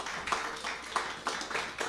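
A small audience at a book talk about Casa Pueblo in Puerto Rico claps in quick, even bursts, a short, moderately loud round of applause with no talk over it.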